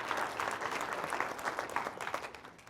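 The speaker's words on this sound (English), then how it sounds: "we should give a moment of applause" Audience applause at a science and technology talk, a fairly soft but dense spread of many hands clapping, steady and then tapering slightly toward the end.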